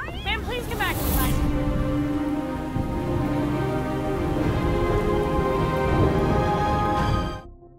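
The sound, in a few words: rain falling outside, in a zombie film scene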